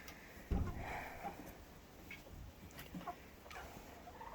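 Chickens are back outdoors after freezing rain, giving faint, scattered clucks and low calls at a distance against a quiet outdoor background.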